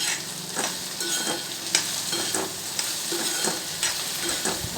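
Okra (bhindi) sizzling as it fries in a pan with salt, stirred at intervals with a utensil that scrapes and clatters several times against the pan over a steady, close frying hiss.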